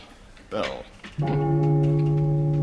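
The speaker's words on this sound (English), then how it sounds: "Bell." A bell rings with a sustained, steady ringing tone that follows a brief spoken word, loud and continuing to the end.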